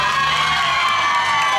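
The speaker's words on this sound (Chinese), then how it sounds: "给我们世纪国际所有的工作人员热情的掌声加尖叫" A crowd at an outdoor temple procession celebration concert cheers, shrieks and claps in a loud, steady, unbroken roar.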